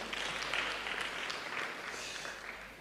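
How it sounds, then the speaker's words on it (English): Audience applauding at a leadership workshop, a dense steady patter of many hands clapping at moderate volume, holding through the clip and tapering slightly at the end. "Please give her another round of applause."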